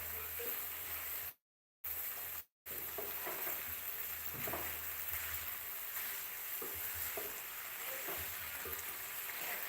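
Adobong pumpkin sautéing in a pan, with a constant sizzle and occasional stirring scrapes, interrupted twice by brief dropouts of silence.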